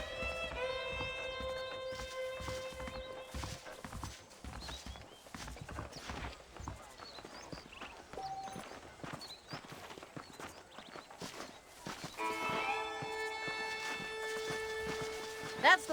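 Horse hooves clip-clopping in Red Dead Redemption, a steady rhythmic walking beat near the listener, running under a musical score and brief game dialogue.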